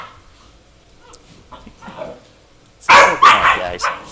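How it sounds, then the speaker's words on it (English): Several dogs bark loudly and close in a quick, overlapping burst near the end, after a quieter stretch with faint background sounds. "Pardon the dogs in the background."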